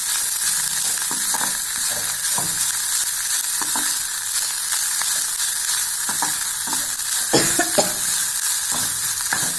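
Coconut, curry leaves, coriander and green chili sauté in a pan, with a steady close sizzle throughout and occasional sharper crackles and spoon scrapes.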